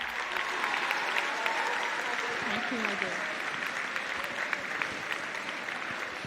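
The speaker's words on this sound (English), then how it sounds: "Let's give her a massive round of applause for all her great work." Sustained audience applause for a student leader at a conference closing ceremony, dense clapping from a large crowd with a voice briefly speaking over it.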